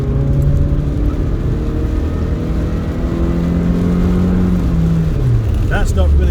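The engine of a Rover 416GTi car accelerates from inside the cabin, a loud, steady drone that climbs in pitch through the gears, drops briefly at a shift near the end, then rises again. Someone talks over it.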